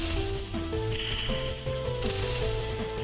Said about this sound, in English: Okay, let's grab the vacuum.